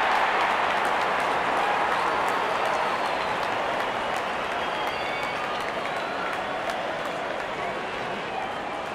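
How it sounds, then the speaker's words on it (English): A big stadium crowd at a Bangladesh vs India one-day international cricket match in Mirpur, a dense, loud, continuous roar of cheering and applause as the opening batsmen walk out. "Openers walking in and the crowd cheering in anticipation."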